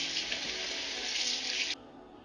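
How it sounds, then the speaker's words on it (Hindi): Water pours steadily from a tap over washed rice to soak it for biryani, a bright continuous splashing rush that stops abruptly near the end, leaving a faint background hum. "अब इसको फाइनली मैं भिगो दूंगी पानी में"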